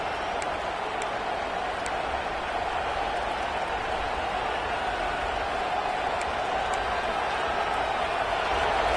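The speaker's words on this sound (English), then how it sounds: "this crowd coming to life here, trying to help the defense get a stop with the offense pinned back" College football stadium crowd at a Clemson vs South Carolina game, a dense, steady roar of cheering that holds at an even level and swells slightly at the end.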